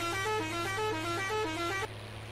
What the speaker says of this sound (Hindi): ये ट्रक वाले अंकल हॉर्न मार रहे हैं